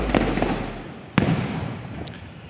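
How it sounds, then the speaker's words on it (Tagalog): Fireworks going off during a ceremony at Malacañang Palace, with a crackling outdoor wash and a couple of sharp distant bursts, the loudest near the middle, heard alone without talk. "yun yung maririnig, yun yung fireworks display na nangyayari ngayon"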